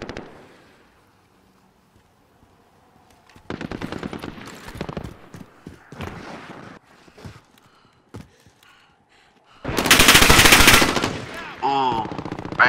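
Call of Duty Modern Warfare gunfire comes in bursts of rapid automatic shots after a quiet opening. A loud, dense volley hits near the end, with other game effects in between.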